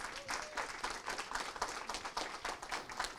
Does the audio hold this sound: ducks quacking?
no